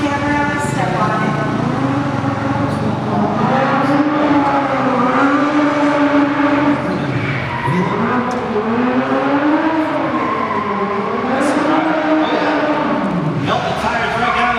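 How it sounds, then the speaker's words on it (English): A stunt car at a live motor action show revs hard and spins its tires in a loud, sustained engine roar with rising and falling pitch, while an announcer talks over it throughout. "Melt the tires right down to the rims here."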